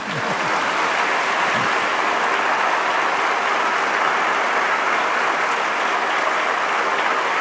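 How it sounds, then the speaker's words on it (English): Sustained applause from a lecture audience, steady and dense throughout, a continuous wash of many hands clapping with no pauses. "You can clap."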